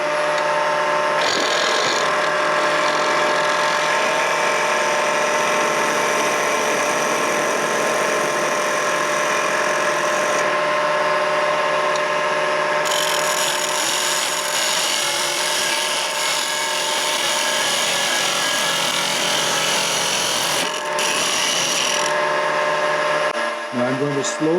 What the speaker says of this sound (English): I'll show you that with the lathe actually running.